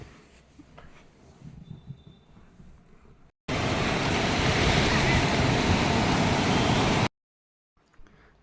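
Ocean surf breaking on Panambur beach in Mangalore, a loud, dense roar that bursts in after quieter shoreline ambience, holds steady for several seconds, then cuts off abruptly.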